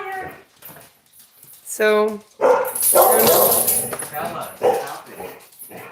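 Several dogs at a new home growl and whimper close by, with a sharp whine and then a rough, sustained growling burst, while a person talks briefly.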